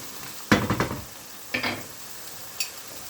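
Minced meat and peppers stirred in a pan, giving a few short scraping, sizzling bursts close by with quiet pauses between them and one brief clink near the end.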